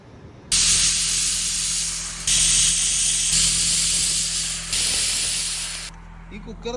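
A pressure cooker on the stove lets out loud, close bursts of hissing steam, three long blasts with brief breaks between them, then quieter sounds at the end.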